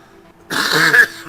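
A single close, rough throat clearing from a race commentator with a cough, short and abrupt after a moment of quiet.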